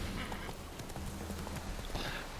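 A horse gallops in the fantasy game The Witcher 3, with faint, steady rhythmic hoofbeats under a low hiss of background noise.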